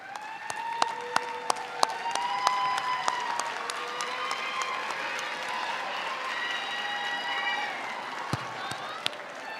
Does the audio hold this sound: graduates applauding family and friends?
yes